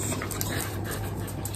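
Indoor dogs whimpering and sniffing close by, soft whines and snuffles over a steady background hum, with no talk.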